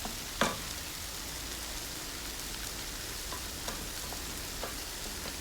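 Honey garlic prawns stirred through sauce in a pan over a very low flame, a steady close sizzling hiss with a sharp scrape near the start and a few faint clinks after, no voices.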